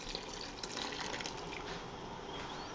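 Liquid pours steadily during a home beer brew, a continuous close splashing wash of water-like sound with no pauses and no talking.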